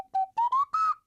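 A slide whistle plays four short, close, bright notes, each gliding upward in pitch, with brief gaps between them and nothing else heard.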